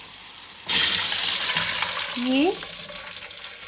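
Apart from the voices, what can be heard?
pouring water into pan for jeera rice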